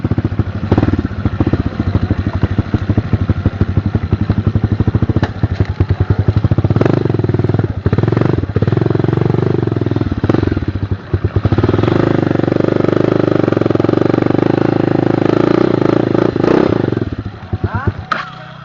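A motorcycle engine runs close by throughout, rough and loud with clattering, revving and idling, while voices talk over it.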